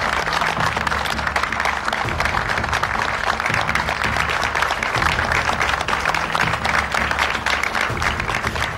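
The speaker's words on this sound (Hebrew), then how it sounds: "מה שאנחנו רואים כאן זה את חברי סיעת הליכוד מוחאים כפיים לכבודו של דוד ביטן" Likud faction members applauding in the Knesset at a faction meeting, a steady dense round of clapping lasting the whole stretch, fairly loud and continuous with no voices over it.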